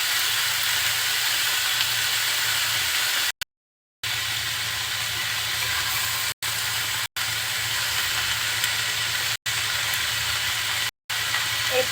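Cauliflower frying in a pan makes a continuous hissing sizzle, broken by a few short cuts where the sound drops out.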